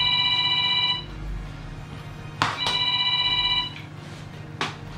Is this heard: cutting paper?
no